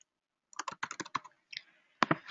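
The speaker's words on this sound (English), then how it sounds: "I'm going to type in my salesperson name" Someone types a salesperson's name on a computer keyboard in quick bursts of crisp, close keystrokes separated by brief pauses, with no speech.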